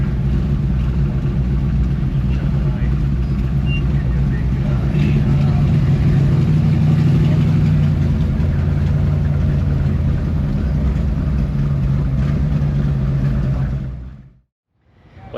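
Cars idling and rolling in at an outdoor car show on a hot morning, a steady low engine rumble with a slight swell midway, continuing for about fourteen seconds before dropping out.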